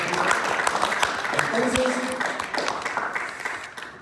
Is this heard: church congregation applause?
yes